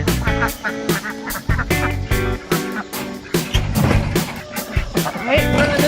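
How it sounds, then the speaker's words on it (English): Ducks quack repeatedly in loud, close bursts. The calls overlap, and a few honking notes are mixed in. A voice sounds among them. "the dirty ducks are all put up for tonight"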